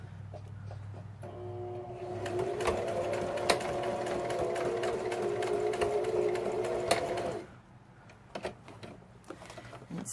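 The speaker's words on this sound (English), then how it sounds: "So I think I'm going to do a straight line stitch with that one." A sewing machine runs a straight line stitch across fabric scraps, its rapid mechanical whirr and ticking holding steady for about five seconds before stopping, followed by a few faint clicks.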